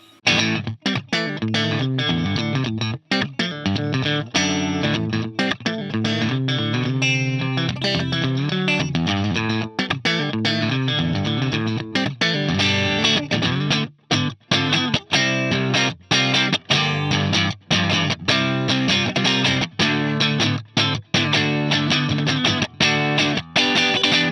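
Electric guitar through a Torpedo Captor X with the enhancer switched on, a compressed, clear distorted tone strummed steadily in a dense, continuous stream of chords with brief gaps, close and loud throughout.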